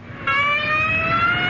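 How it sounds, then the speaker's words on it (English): A whale call rings out alone, a loud sustained tonal cry with stacked harmonics that slowly rise in pitch, resembling a squeaky hinge. "each sound was made by a whale"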